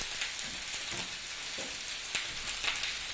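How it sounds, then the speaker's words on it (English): Whole green beans dropped into a warm frying pan give a soft, crackling sizzle with a few light pops and clatters, fairly quiet and close. "So just going to pop them into the frying pan here."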